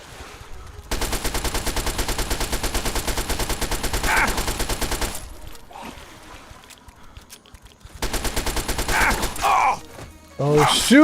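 Fallout 3 gunfire: two long rapid bursts of automatic shots, loud and close, separated by a quieter lull, with a grunting voice and scattered game effects near the end.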